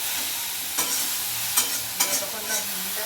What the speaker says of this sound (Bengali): এবার আমি এটা নাড়তে থাকবো,